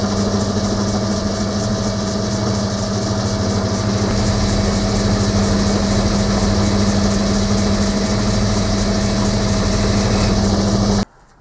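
A metal shaper machine runs steadily during a boring operation, giving off a continuous mechanical hum and rattle that holds even and loud before cutting off abruptly at the end.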